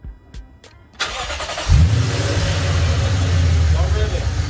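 A supercharged Lexus RC F engine cranks briefly after a couple of clicks, catches and settles into a loud, steady idle close by.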